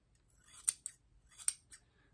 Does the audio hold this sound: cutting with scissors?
yes